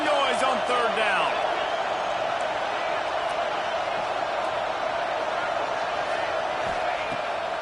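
A college football stadium crowd at LSU at Georgia roars loudly on third down, a dense continuous wall of cheering that stays steady throughout.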